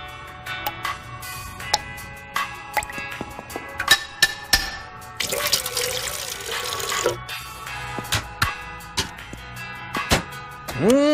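An automatic drip coffee maker in a kitchen ticks and drips in irregular bursts, with a short gurgling hiss of brewing midway and small liquid pops toward the end.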